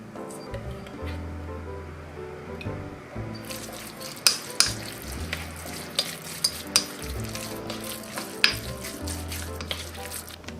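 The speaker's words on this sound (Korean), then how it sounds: "참기름 한 작은술을 넣고 잘 섞어주겠어요" Seasoned meat with soy sauce, garlic, pepper and salt is mixed with sesame oil, giving soft sizzling and stirring with a few sharp clinks of utensil on bowl, close up and without talk.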